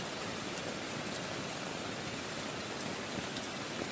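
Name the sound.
heavy rain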